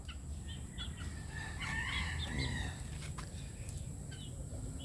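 Chickens and chicks on a farm raising a Butcher Mt. Banahaw gamefowl line, with a rooster crowing and fowl calling midway over a steady low outdoor rumble.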